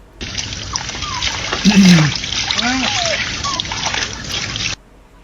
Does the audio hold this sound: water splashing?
yes